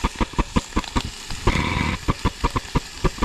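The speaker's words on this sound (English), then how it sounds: "that's the sound of the burner being extinguished by the breeze and then rapidly reigniting under its own heat" Coleman Hyperflame Fyreknight camping stove burner outdoors in a light breeze, popping in rapid irregular bursts as the flame blows out and reignites, with a brief steady roar in between, close and loud.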